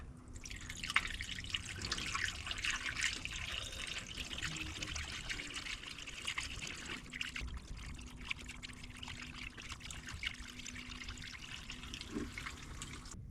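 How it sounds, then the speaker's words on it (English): Lake water pours steadily into the radiator of an abandoned, rusting Chevrolet C-10 truck, a continuous splashing, trickling stream heard up close with no talking. "I'll have to fill it up with lake water or something."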